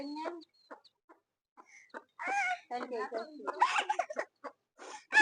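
A mother hen raising duckling chicks on a small duck farm clucks in short bursts, interleaved with a person talking close by throughout.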